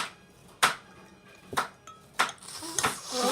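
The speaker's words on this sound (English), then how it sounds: "It's my mum chopping up the potatoes or Carrots." Potatoes or carrots being chopped in a home kitchen, heard as four sharp knife strikes spaced about a second apart against a quiet room background, with clatter building toward the end.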